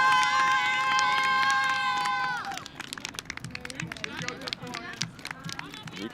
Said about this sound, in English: You can hear the German crowd going wild from the other net on the women's side